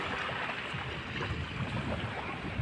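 Small motorized fishing boat with a propeller out on the water at a beach, a steady churning wash of water and low engine rumble, fairly close and continuous.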